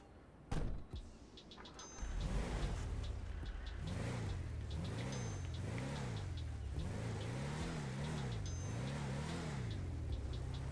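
Patriot military-spec four-door Hummer in GTA Online, engine-upgraded: a door thunk, then the engine cranks and catches into a loud steady idle with a rhythmic rising and falling drone, close and alone.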